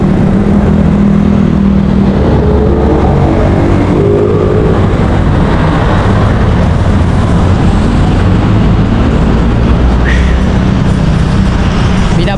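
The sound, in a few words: traffic on EDSA road, Manila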